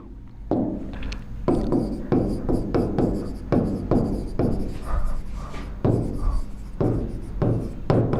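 Writing on a board during a Class 10 maths lesson on quadratic equations: a quick series of scratchy strokes in uneven bursts, close and fairly loud, with no speech.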